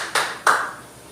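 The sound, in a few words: class giving three claps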